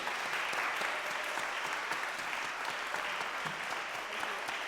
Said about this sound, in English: Can we get special applause for Professor Williams for her teaching toda